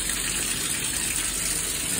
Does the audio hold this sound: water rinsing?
yes